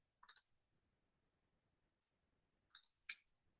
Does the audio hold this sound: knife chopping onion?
no